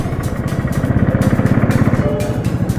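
A motorcycle is ridden on the road, its engine throbbing close and loud in a steady, fast rhythmic chug, with wind rush throughout.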